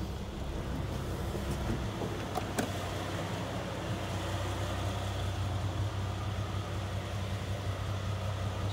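A 1983 Jeep CJ-8 Scrambler engine idles with a low, steady rumble, close and fairly quiet, with a couple of faint clicks early on.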